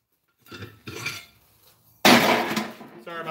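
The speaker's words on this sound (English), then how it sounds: "So I'm going to switch to some actual forging now." Hammer blows while forging a blade on an anvil, two lighter metallic strikes followed by a louder ringing impact with clattering, close by.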